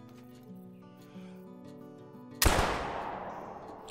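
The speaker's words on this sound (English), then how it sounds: "Got the old 20 gauge out, the Norden, my favorite shotgun in the game." A single sharp, loud blast from a 20 gauge Norden shotgun in the hunting game theHunter: Call of the Wild, cracking suddenly after a quiet stretch and decaying over about a second and a half.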